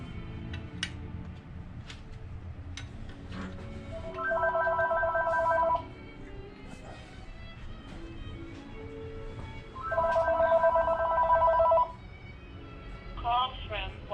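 An incoming call rings on a telephone in a motor repair shop during an engine teardown: two separate bursts of electronic ringing, each lasting over a second, with voices talking and workshop clatter in between.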